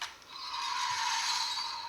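Vintage 1979 Kenner Star Wars Imperial Troop Transporter toy playing its electronic flyby effect, a steady whooshing electronic hiss with a high whine that swells and holds for about two seconds, fairly faint and with no voices.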